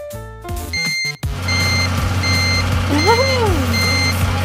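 A toy truck's reversing alarm beeps steadily, evenly spaced and loud, over a constant motor whine, with brief voice-like sounds near the start.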